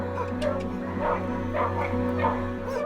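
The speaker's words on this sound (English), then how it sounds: "This barking is all about love, calling us to stay with the dog." A dog barks and yips in short, repeated bursts, close and loud, some calls thinning into whimpery whines over a steady low background hum.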